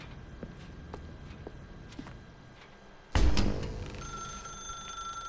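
A telephone rings in The Stanley Parable after a stretch of soft footsteps, its bright, sustained electronic tone starting abruptly partway through and holding steady to the end.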